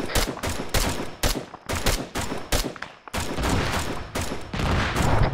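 Gunfire is aimed at a bunker in the military video game Arma 3. Rapid automatic bursts and overlapping shots come in close succession, loud and nearly continuous, with brief gaps between volleys.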